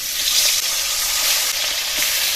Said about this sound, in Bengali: এবার এর মধ্যে মাছগুলো দিয়ে ভেজে নেব।